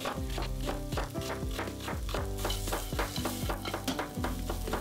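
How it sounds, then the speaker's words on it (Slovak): Onion and fennel sautéing in olive oil give a steady soft sizzle with occasional stirring, running under rhythmic background music throughout. "Pridáme fenikel, osolíme a restujeme asi 10 minút."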